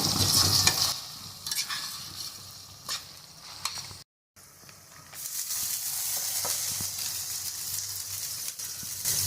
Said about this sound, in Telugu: ఇది మంచిగా వేగాలండి అంటే మంచిగా ఫ్రై అవ్వాలి